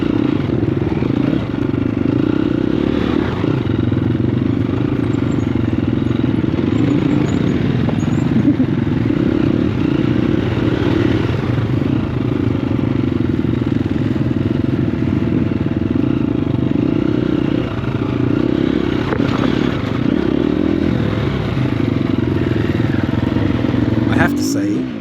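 A Triumph TF250-E enduro motorcycle engine drones steadily and loudly throughout a ride, with continuous rough mechanical roar and occasional clatter from the trail.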